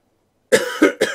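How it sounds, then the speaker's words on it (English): After a brief silence, a person gives three quick, harsh coughs in a row, close and loud. "Excuse me, I have a cough."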